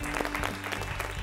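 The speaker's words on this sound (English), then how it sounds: "Let's clap for them." Audience applauding the runners-up team at a quiz event, steady dense clapping from a room full of people, loud and close with a constant hum underneath.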